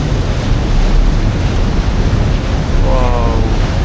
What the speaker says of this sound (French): Ça éclabousse.